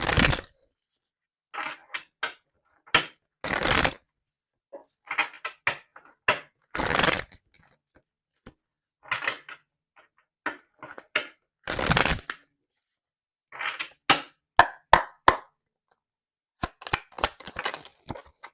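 Tarot cards being shuffled, heard as a series of short, crisp riffling and slapping bursts separated by pauses, close and alone with no talking.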